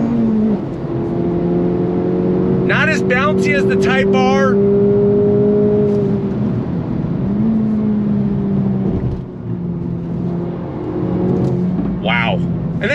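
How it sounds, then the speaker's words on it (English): A 2024 Acura Integra Type S hot hatch driven hard, its engine droning steadily with rising and falling revs from inside the cabin while someone talks over it. "And then you get a couple pops and bangs out the back."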